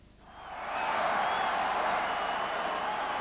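Big London street crowd cheering Winston Churchill at the end of the war in Europe, a dense roar of voices that rises quickly and holds steady, heard from some distance.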